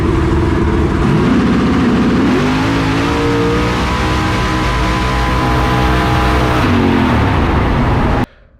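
A Lexus RC350 no prep drag race car roars down the track at full throttle, a loud continuous engine howl climbing through gear changes with rising and falling pitch sweeps before cutting off abruptly at the end.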